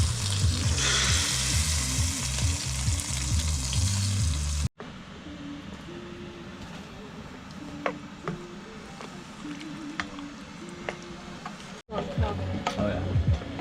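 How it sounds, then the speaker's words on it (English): Sauce stir-fried in brisket grease on a campsite stove at a lakeside campground, a loud sizzle with rhythmic stirring, then softer frying with clinks and taps after an abrupt cut. "you want to stir fry the sauce first"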